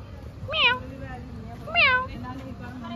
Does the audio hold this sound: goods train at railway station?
no